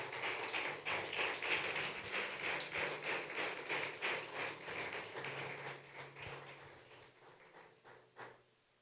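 A church congregation claps strongly together, a dense run of hand claps that holds loud for several seconds before thinning out and fading near the end.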